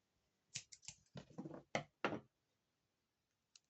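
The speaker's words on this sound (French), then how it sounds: "Des petits ciseaux." Small scissors snip paper and 3D foam tape during Christmas card making, a quick burst of a few crisp close cuts followed by one faint click.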